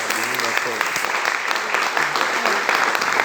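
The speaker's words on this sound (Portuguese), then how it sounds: "uma salva de palmas para o Cacá." Steady applause fills a ceremony marking an institution's 25th anniversary, a dense wash of many hands clapping at once, with a speaker's voice carrying on over it throughout.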